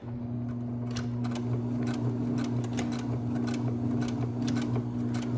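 Sewing machine running steadily while stitching an encased or French seam, a continuous close motor hum with a fast even needle rhythm throughout.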